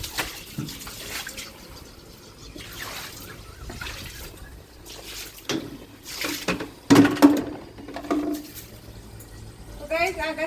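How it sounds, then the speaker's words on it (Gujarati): Water splashes and trickles while a small balcony rooftop terrace is washed down, faint intermittent sloshing and dripping under a person talking nearby. "આગાસી છે, જે બાલ્કની આગાસી, એ ધોઈએ છે. કેમ કે ઉપરથી પાણી પડે છે ને, એ ધોવું પડે."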